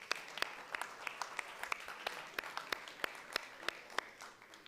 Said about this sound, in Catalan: Sisplau, un fort aplaudiment